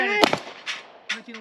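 Pistol shots from an Ithaca 1911 and a Browning Hi-Power at an outdoor range ring out as a few sharp cracks, one loud nearby shot followed by fainter reports, with a voice briefly heard.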